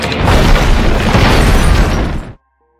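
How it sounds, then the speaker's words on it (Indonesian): A loud, close bomb explosion blows up a hideout in an action film, one sustained roaring boom lasting about two seconds before cutting abruptly to silence. "Jimmy meledakkan markasnya dengan bom yang sudah ia tanam di sana."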